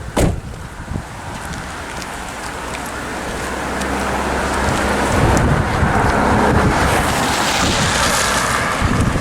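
Steady rain falls outdoors as a dense, even hiss that swells gradually and holds loud through the end, with a sharp knock at the start and a low rumble beneath.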